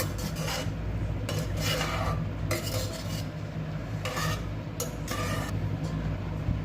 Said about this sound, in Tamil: சேர்த்துட்டு நல்லா கிண்டி விடுங்க.